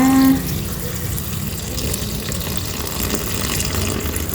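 Water pours steadily into a pot for Thai orange pickle, a continuous broadband splashing rush that starts abruptly and holds at a close, fairly loud level.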